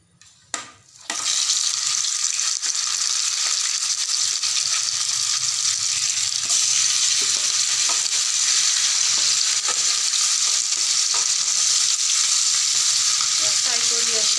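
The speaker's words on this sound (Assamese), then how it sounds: "এতিয়া মাছখিনি ফ্ৰাই কৰি ল'ম।" Turmeric-and-salt-coated fish frying in oil in a kerahi wok for a traditional Assamese dish: a loud, steady, dense sizzle that starts abruptly after a brief pause and crackles on without letup.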